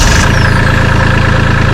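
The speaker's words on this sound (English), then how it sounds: "Now that the tractor started up" Kubota LX2610 compact tractor engine running steadily at idle, a loud, even low rumble with a regular pulsing beat, close by and with no talk.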